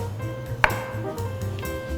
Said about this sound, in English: I also like to rotate the dough a little while I'm slicing.